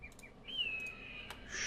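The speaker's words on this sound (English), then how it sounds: "Shush, bird." A single bird chirps outdoors, a few short tweets followed by one sustained clear whistle, faint and close, with no talk.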